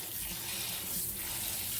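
Water drains steadily as washed autumn olive berries are strained, a close, continuous hiss and trickle with no pauses.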